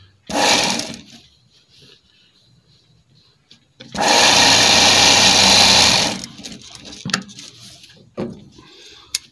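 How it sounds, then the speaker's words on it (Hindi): A sewing machine stitches a side pocket onto a men's kurta in two loud, close bursts, a short run followed by a longer steady whir of about two seconds, with faint clicks and handling noises between them. "दूसरे पैकेट को भी आपने इसी तरह सिलाई मारना है।"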